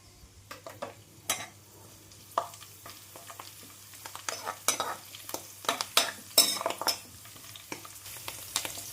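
Garlic, mustard seeds, cumin, dried red chillies and curry leaves crackle in hot oil as a tempering for bitter gourd pickle. Sparse sizzling is broken by repeated scraping and clinks of a spoon stirring the pan, which grow busier toward the end.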